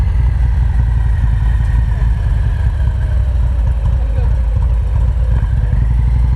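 Motorcycle engine turning over at low RPM during advanced slow-speed riding practice, a steady low rumble lasting throughout, with background noise over it.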